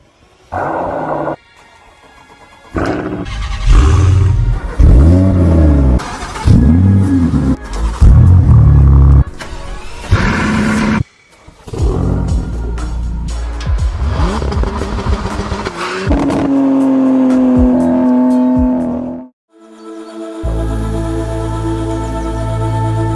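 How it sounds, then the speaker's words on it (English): Mercedes-AMG E63S Saloon facelift engine roaring through a series of loud revs and accelerations, with deep bursts, brief gaps between them and a sustained steady drone near the end, all close and without talk. "this is the Mercedes-AMG E63S Saloon, and this is the facelift model, so the better version"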